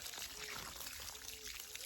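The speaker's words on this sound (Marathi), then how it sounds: "हातात घे पाणी तोंड धु" Water pours and splashes faintly, a quiet continuous trickle with a soft low hum in the background.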